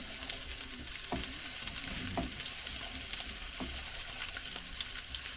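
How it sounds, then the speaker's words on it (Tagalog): Onions sautéing in oil in a pan give a steady close sizzle, with occasional scrapes and taps of a plastic ladle stirring. "Siyempre, gigisa na natin ng ating sibuyas."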